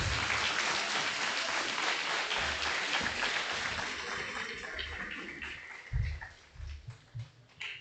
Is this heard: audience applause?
yes